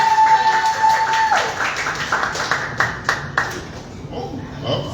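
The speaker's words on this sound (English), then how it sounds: "start clapping it up right now for Miss April" Audience applause for poet Miss April Flowers at a Writers Block Orlando open mic, a steady wash of clapping that swells and then thins out, with a few voices and a brief tone over it.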